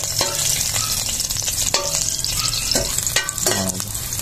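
Garlic sautés in a pan for sopas, a loud close sizzle that carries on without a break, with scattered clinks and scrapes as it is stirred and no talking.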